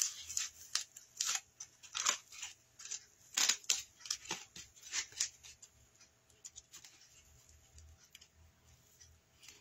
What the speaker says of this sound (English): I'm just going to cut another portion off of there. So I'm finding my center and cutting my dart out.